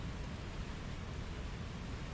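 The swollen Chillán river rushes beneath a bridge during rain, a steady, dense roar of broadband water noise, continuous and fairly distant with no talk.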